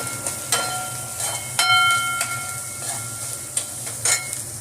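Onions and vegetables for broken wheat upma sizzle steadily in a hot pan, with several sharp scraping clinks of a utensil stirring at irregular intervals, close up.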